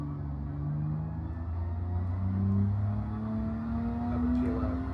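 In a racing video game, a car starts from a standstill, its engine note climbing steadily as it accelerates, a moderately loud whine that rises in pitch over several seconds.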